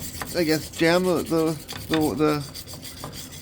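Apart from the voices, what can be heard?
wire brush on drill cleaning 1953 Pontiac rear brake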